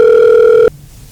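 A telephone sounds with an incoming call in a home, a loud steady electronic ring tone that cuts off abruptly partway through, leaving quiet room noise.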